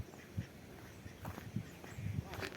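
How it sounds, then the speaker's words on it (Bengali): Ducks beside a pond give several faint, scattered quacks amid low background noise, with no clear speech. "এটা এটা হাঁস, বতক।"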